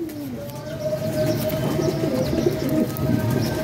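Jethiya pigeons coo in low, throaty murmurs amid a steady ambient background, with a faint whistle-like tone running through.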